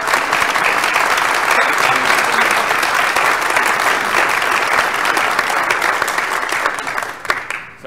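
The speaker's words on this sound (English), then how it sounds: "Let's give another round of applause to our" A Lutheran church congregation at a traditional worship service applauds a visiting high school band, a long, loud, sustained round of clapping that holds steady before thinning out and fading near the end.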